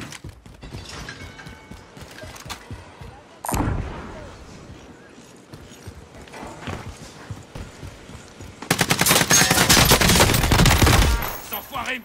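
Rapid bursts of gunfire in Warzone, the battle royale shooter, with a sharp shot near the start and a long loud sustained volley toward the end, over quieter game ambience.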